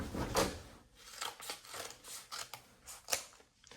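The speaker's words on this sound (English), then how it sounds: "Let me get my scissors because I'm not going to be able to get this open without them." Scissors cut through a paper mail envelope at close range, giving a string of crisp snips and papery rasps in an uneven rhythm, fairly quiet, with no talking.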